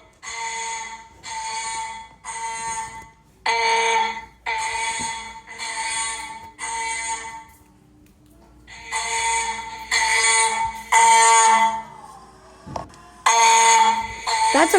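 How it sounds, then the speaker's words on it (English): Several fire alarms sound off in a living room during a system test, loud repeating electronic tones in bursts, with short gaps and some overlapping, close and dominant throughout. "And here we have some fire alarms going off in the living room."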